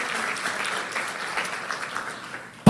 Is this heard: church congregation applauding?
yes